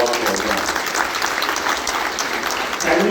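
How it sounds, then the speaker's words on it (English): Audience at a school prefects' summit applauding a guest speaker: dense, sustained hand clapping from a large crowd, steady throughout with a slight swell at the end. "join our hands together to thank our guest speaker"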